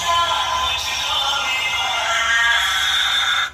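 A small loudspeaker with no tweeter plays music with a thin, bright, midrange-heavy tone and little low end, steady and continuous throughout.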